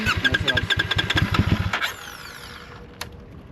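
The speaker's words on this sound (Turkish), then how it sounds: "bir de egzoz sesini dinleyelim" Close up, a CFMOTO 450SR motorcycle idles with a steady, lumpy exhaust pulse for under two seconds, then the engine cuts off, leaving quiet background and one faint click.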